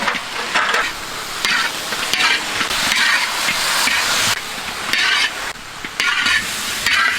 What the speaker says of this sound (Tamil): Fried chicken.